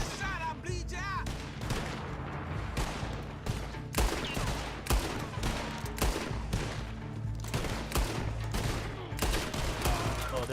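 Bolt-action rifle fire in Red Dead Online, scattered sharp shots over continuous battle noise, with someone talking throughout.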